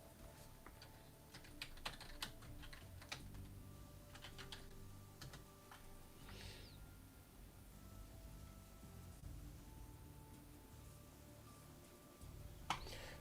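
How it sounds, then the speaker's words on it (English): Steady computer keyboard typing runs throughout at close range, with a busy patter of keystrokes and a few sharper clacks over low background hum. "I'm just typing."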